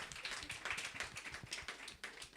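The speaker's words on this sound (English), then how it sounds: "Round of applause, please." Scattered applause at a procurement conference session, faint distant clapping with individual claps standing out irregularly, no talking over it.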